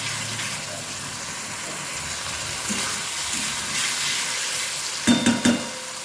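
Spice paste sizzling and being stirred in a pan over a raised gas flame while cooking a vegetarian chhana dish, a steady hiss with a few sharp scraping clinks near the end.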